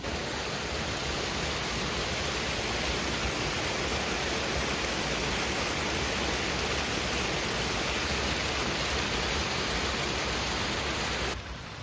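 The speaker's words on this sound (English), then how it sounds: "let's check out the waterfall here for a second" Loud, steady roar of a waterfall, dense broadband rushing water filling the scene without letup and cutting off abruptly near the end, no talking.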